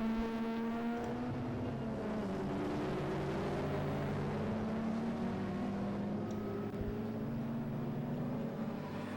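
A Class F BMW Mini Cooper race car passing at Oulton Park, its engine drone rising and falling in pitch at a moderate distance, heard alone as a steady, slightly shifting whine.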